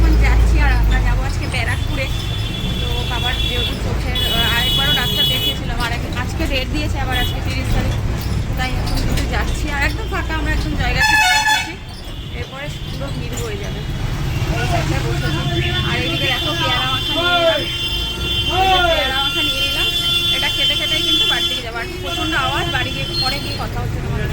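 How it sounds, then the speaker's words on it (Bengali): A bus pulls away from Joygachhi, bound for Naihati, its engine rumbling low and steady from inside while passengers talk over it and a loud rattle breaks in briefly midway. "বাসটা এখন ছাড়লো"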